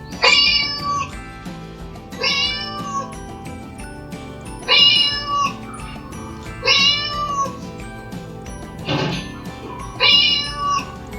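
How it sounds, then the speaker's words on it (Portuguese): A cat meows repeatedly, five clear drawn-out meows spaced about two seconds apart, close and fairly loud, with a short rougher burst near the end. "Miau! Miau!"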